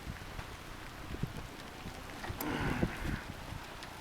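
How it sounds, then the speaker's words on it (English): A rain storm with wind picking up outdoors under an overhang, steady rain hiss and gusty wind noise throughout, swelling slightly near the end, with no talking. "The wind is starting to pick up again."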